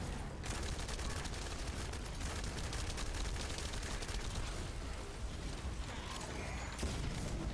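Rapid gunfire from the video game The First Descendant rattles in dense bursts with mechanical clatter, continuous and fairly faint in the game mix, with no talk over it.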